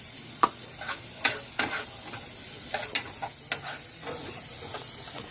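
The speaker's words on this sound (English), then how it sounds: "I have it sauteing, and I just lightly coated the pan in olive oil." Spinach sautéing in a pan lightly coated with olive oil gives a steady background sizzle, broken by sharp, irregular clicks and scrapes of stirring that sit close and fairly loud.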